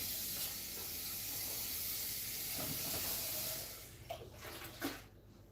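Water from a tap rushing into a kitchen pot as it is rinsed, a steady hissing flow that cuts off near the end into a few faint clinks and splashes.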